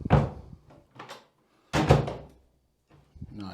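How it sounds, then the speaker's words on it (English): A repaired interior door with newly attached hardware swings shut twice, each close a solid thunk with a short rattle of the latch, separated by quiet pauses, with a faint click at the end. "The door closes just like I'd want it to."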